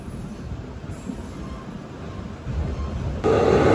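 Sarkar Express, hauled by a WAP4 locomotive with ICF coaches, rumbles steadily along the rails, with faint wheel squeal and a louder surge of running noise toward the end.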